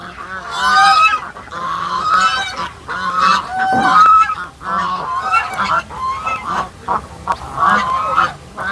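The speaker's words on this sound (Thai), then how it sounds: "อันนี้ก็คือห่านจีนนะครับที่อยู่ในฟาร์มเรา" Loud, close Chinese geese honking repeatedly on a farm in overlapping bursts, several birds calling back and forth.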